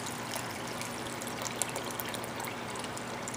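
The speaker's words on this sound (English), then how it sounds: "enough water to just cover our vegetables." Steady broadband rush of water pouring continuously into a pot of vegetables, even and close, with no talking.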